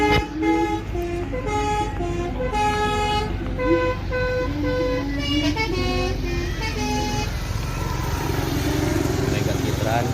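Telolet basuri musical bus horn, a bright melodic sequence of sustained tooting notes playing a tune, with engine rumble underneath and voices in the background.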